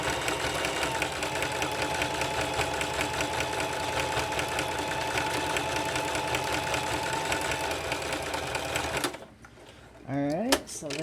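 A sewing machine runs steadily in a straight stitch along purse straps, a loud continuous mechanical whir with rapid needle rhythm for about nine seconds, then stops, followed by a brief voice.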